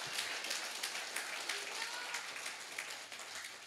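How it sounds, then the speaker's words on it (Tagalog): A church congregation claps together in steady, fairly faint applause, the sound diffuse and even throughout with no voices standing out. "Palakpakan nga natin ang Panginoon."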